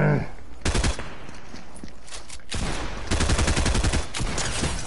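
Close, loud gunfire in Fortnite, with bursts of rapid shots and heavy shotgun blasts in several clusters over the span, one sustained volley near the end.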